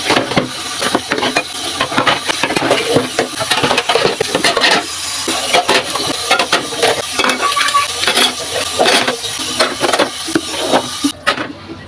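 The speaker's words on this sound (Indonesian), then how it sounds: "ini aku lanjut lagi nyabun-nyabunin si piring-piring kotor aku" Dirty plates being soaped and scrubbed by hand, with continuous close clinks, scrapes and wet rubbing of dishes and utensils, busy and fairly loud throughout, with no talking.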